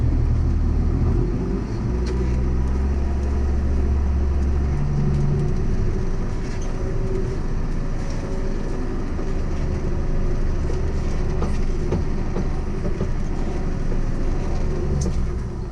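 A vehicle in a farming video game drives out to the field, its engine giving a steady, loud, continuous rumble with no pauses and no one talking.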